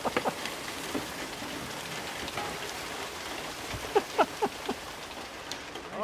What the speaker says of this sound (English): we had a little bit of a rain, a short rain